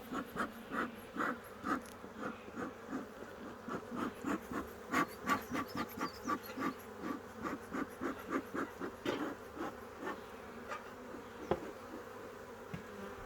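Honeybees hum and buzz densely during a hive inspection, a near, steady drone broken by rapid pulsing wingbeat bursts and occasional light knocks, with no talking.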